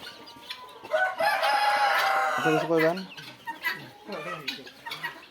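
A loud, drawn-out rooster crow rings out close by at a Tiger chicken farm in Bakshiganj, Jamalpur, followed by scattered clucking from other fowl.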